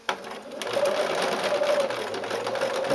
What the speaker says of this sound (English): I'm trying to sew slowly, but I'm so used to sewing that it's difficult for me.